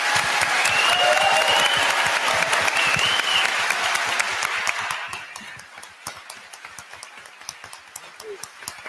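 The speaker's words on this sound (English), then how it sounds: "Let's give them a bigger round of applause." An audience claps loudly for congressional candidates at a Democratic forum, a dense burst that fades into scattered, individual claps after about five seconds, with a voice over the opening stretch.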